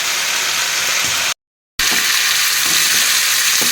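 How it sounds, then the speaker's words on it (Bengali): Spring onion, cauliflower and potato frying in a pan, a loud close steady sizzle with faint stirring, broken by a brief moment of silence midway before resuming. "এটা রান্না হচ্ছে পেঁয়াজকলি আর ফুলকপি আর আলু ভাজা"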